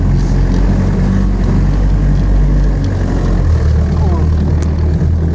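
A homemade drum cultivator runs nearby with a loud, steady engine drone and a low rumble that shifts slightly partway through.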